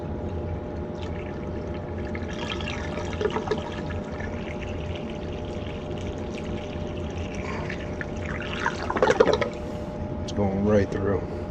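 Water flushes through a plugged AC condensate drain line, pouring and gurgling steadily, with a few louder surges toward the end and faint voices in the background.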